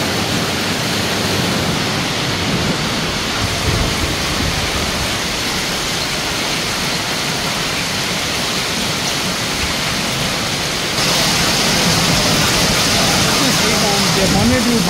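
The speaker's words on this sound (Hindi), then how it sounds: "बाहर इतनी तेज ओले गिर रहे हैं, बारिश हो रही है" Heavy hail and rain pound down outside during a storm in Peshawar, forming a loud, dense, continuous hiss and roar that grows slightly stronger toward the end.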